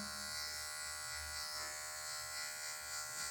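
Electric hair clipper buzzing steadily while the tip trims a low fade haircut, a close continuous motor hum with small shifts in tone as the blade touches hair.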